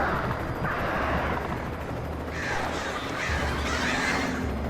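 Crows caw in bursts in the Alan Wake video game, several harsh calls layered over a steady wash of background ambience with no talking.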